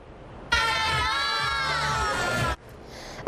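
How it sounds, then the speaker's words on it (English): Soccer fans at a pub World Cup watch party roar and cheer for Team Canada, a loud sustained crowd burst of about two seconds that starts and stops abruptly. "A sea of red flooded into the King's Head pub this afternoon to cheer on Team Canada."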